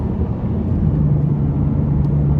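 Exhaust note of a 664 hp 2017 McLaren 570S on a drive, a steady, fairly loud low rumble that swells slightly toward the end, with no talking.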